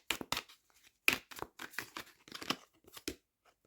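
Tarot cards shuffled by hand in short bursts of riffling and papery slaps, separated by brief pauses, close and fairly quiet.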